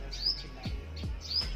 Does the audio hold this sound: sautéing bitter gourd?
no